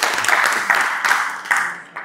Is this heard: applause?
yes